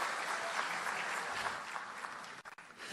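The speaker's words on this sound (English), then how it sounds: "Can we please get another round of applause for our Chief Human Resources Officer, Jessi" Dense applause from a crowd at a school district hiring event, steady clapping that fades slightly toward the end with a couple of sharp final claps.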